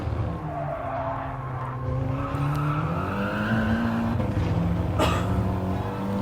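An Audi TT Gr4 race car laps Laguna Seca in Gran Turismo Sport, its engine droning steadily as it brakes and the tires squeal through a corner, with no talk.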